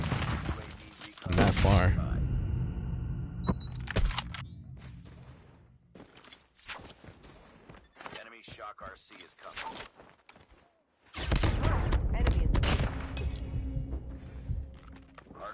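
Bursts of game shotgun fire with loud blasts and clattering impacts, broken by a quieter stretch and then another heavy volley near the end, with a voice talking over parts of it.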